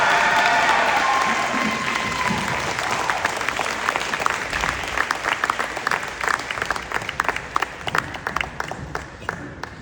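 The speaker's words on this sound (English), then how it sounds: "How about one more round of applause for this group?" Warm applause for an inducted class at a Hall of Fame ceremony, with a dense crowd of hands clapping steadily before thinning into scattered, fading claps.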